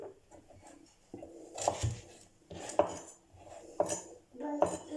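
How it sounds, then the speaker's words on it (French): A knife chops carrots into small cubes on a board, giving sharp irregular knocks and clatters with quiet scraping between them, close and fairly soft, and nobody talks. "Alors, là les carottes, pareil, on va en faire des petits cubes."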